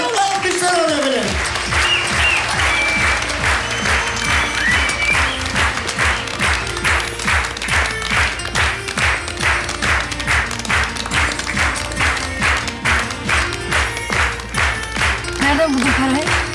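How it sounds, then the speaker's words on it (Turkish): A stage show audience claps in a steady, rhythmic unison beat, loud and continuous over music, with some voices calling out near the start and end. "alkışlar olabilir"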